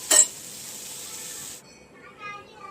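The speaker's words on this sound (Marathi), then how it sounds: "तुपावर घालायचा कांदा, तुपावर ते परतते कांदा" Onion frying in ghee gives a steady close hiss of sizzling after a brief sharp burst at the start, then it drops to a quieter crackle with faint clatter.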